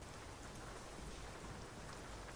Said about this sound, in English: On a rainy British day